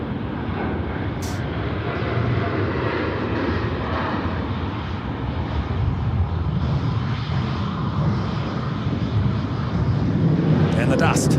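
A Boeing 737 jet at Sydney Airport at night gives a sustained, loud engine roar during its takeoff roll, with people talking over it throughout.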